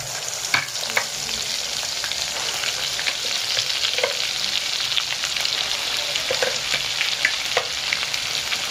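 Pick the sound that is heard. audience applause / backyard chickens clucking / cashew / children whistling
cashew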